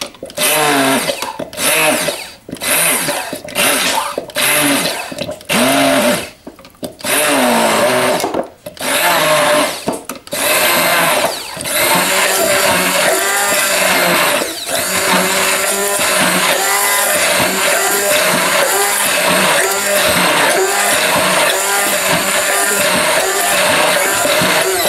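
Blender whirring through banana and olive oil for a homemade hair mask, first in short loud pulses, then settling into a steady, continuous roar; close and dominant, with no talking.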